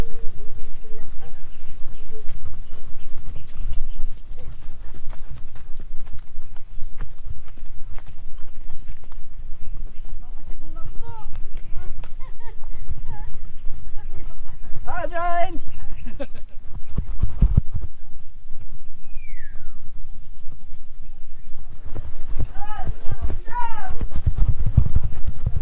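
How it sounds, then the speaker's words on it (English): Hooves of a ridden horse clip-clop in a steady walking rhythm over a continuous outdoor rumble, with people talking throughout. "riding a horse"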